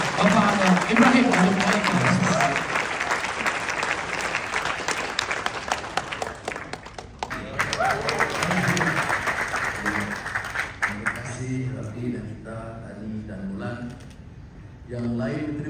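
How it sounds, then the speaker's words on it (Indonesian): Audience applause for Malaysian Prime Minister Anwar Ibrahim, a full hall clapping loudly and steadily, thinning toward the end as the clapping tapers off. "kita berikan tepuk tangan yang meriah untuk Bapak Perdana Menteri"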